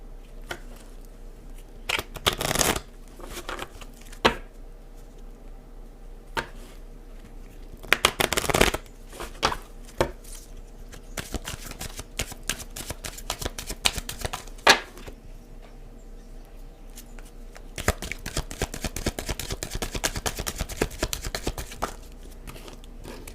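A tarot deck is shuffled and cut by hand in repeated bursts of riffling and flapping cards, close and crisp, separated by brief pauses with soft handling clicks.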